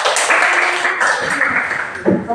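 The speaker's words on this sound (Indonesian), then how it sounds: "Boleh tepuk tangan dulu." Steady applause from a class of students clapping their hands, a dense continuous patter filling the room, with a voice briefly emerging near the end.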